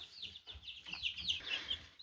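Young chicks of about 100 grams cluck and chirp softly in short, quiet bursts close by for a couple of seconds.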